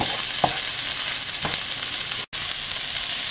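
Onion and grated coconut sizzle loudly in a pan as they fry with bitter gourd, a steady close crackle with a few soft stirring taps and one brief instant of silence.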